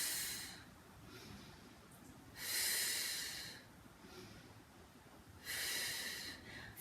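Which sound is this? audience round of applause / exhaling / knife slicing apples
exhaling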